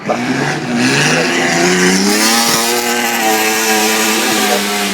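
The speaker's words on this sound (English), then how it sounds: "So this is the Opel Ascona, the 72 Ascona, full house in fact." A 1972 Opel Ascona rally car in full-house tune at Goodwood roars loudly and continuously, its engine note rising and falling through sustained revs with no talk over it.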